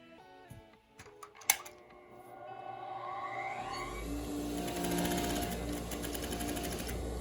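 Sewing machine stitching a seam in fine satin fabric, the motor whirring steadily after a few clicks and a sharp knock at the start, running continuously and fairly close.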